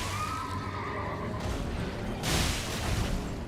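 A horse in the video game Elden Ring whinnies loudly over a steady wash of game ambience and clip-clopping hooves, followed by a heavier crashing burst near the end.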